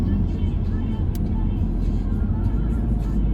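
A car drives along a road, giving a steady low rumble of engine and tires heard from inside the car.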